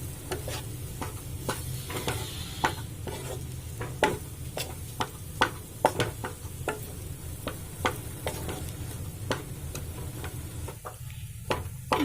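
Boiled potatoes for egg potato chop are stirred and tossed in a frying pan with a steady sizzle. A spatula clicks and taps against the metal in an irregular rhythm throughout.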